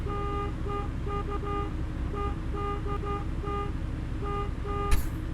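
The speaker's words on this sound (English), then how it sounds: "I really should try to find a horn mod or something, because like my horn here is pathetic." A weak, car-like truck horn in American Truck Simulator on a Freightliner Cascadia, sounding as a series of short repeated toots in an uneven rhythm over a steady engine drone, with a brief click near the end.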